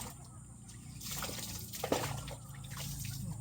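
Water is poured over a dog during a bath, splashing and trickling in a few uneven pours while people talk close by.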